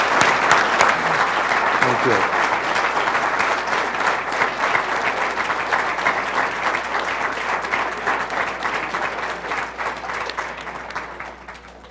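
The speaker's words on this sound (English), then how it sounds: "Let's give him a round of applause, please." A large audience at a Hall of Fame event applauds an honoree with dense, steady clapping that stays strong and slowly tapers toward the end, while a voice briefly speaks over it.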